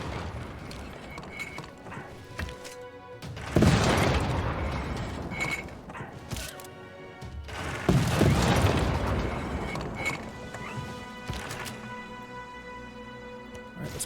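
Field cannons in Civilization VI go off as two loud, rumbling booms several seconds apart, set against a quieter game soundscape of mechanical clicks and tones.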